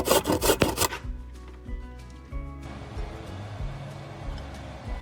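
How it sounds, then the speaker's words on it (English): Fresh ginger rubbed against a grater for a chicken and cabbage spring roll filling, giving soft, close scraping strokes in an uneven rhythm after a brief louder rustle at the start. "let's grate in about 1 teaspoon of ginger"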